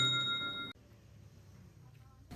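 A bright bell-like ding rings with a sustained metallic tone, then cuts off abruptly into near silence as a notification chime effect.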